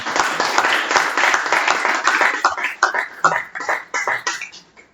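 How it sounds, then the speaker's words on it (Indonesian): A crowd at an academic judicium ceremony applauds the graduating class, a dense, loud burst of clapping that thins into scattered claps and fades toward the end. "Tepuk tangan untuk angkatan."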